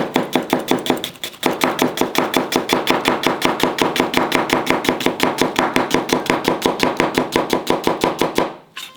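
A chef minces food with a kitchen knife on a cutting board, fast, evenly spaced chopping taps in a steady rhythm close by, briefly pausing near the start and stopping at the end.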